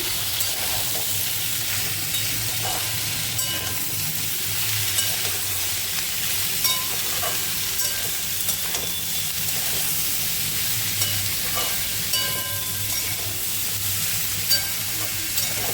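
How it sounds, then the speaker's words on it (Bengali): Vegetables fried together with boiled cauliflower stalks give a continuous close sizzle with frequent stirring scrapes and utensil taps, steady and unbroken with no voices. "এবার এইটাকে আমি ভালো করে দিয়ে ভাজা ভাজা করে দেবো সব সবজির সাথে।"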